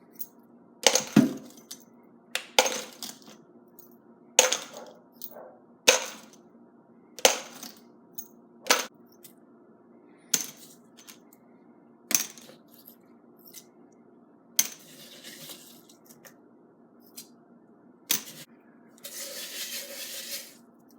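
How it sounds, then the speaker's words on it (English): Brass cartridge cases and steel pins poured in bursts from a Harbor Freight rock tumbler drum after wet tumbling, giving about a dozen separate metallic clattering spills with short pauses between, ending in a longer rattling pour. "I just empty the brass into here, drop all the pins back in the bucket."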